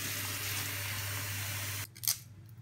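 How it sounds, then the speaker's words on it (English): A goose egg goes into cold water in a kitchen: a steady rush of running tap water cuts off abruptly, followed by a brief close splash and clunk, with no speech. "I'm gonna put it in cold water."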